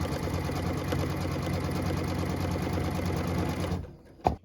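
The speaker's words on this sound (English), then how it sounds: "What we're stitching now is a cut line so piece number 7 can join our block" An embroidery machine stitches a cut line along a quilt heart block, a steady close rapid whir lasting nearly four seconds before stopping abruptly, followed by a brief clack.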